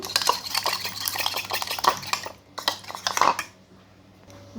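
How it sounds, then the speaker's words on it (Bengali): An egg being beaten in a bowl with a utensil, giving quick repeated clinks and scraping taps in bursts that pause briefly before a short final stretch, close and fairly clear with no talk. "ডিমটাকে ফাটিয়ে নিয়েছি এবার ডিমটাকে ফেটে নেব"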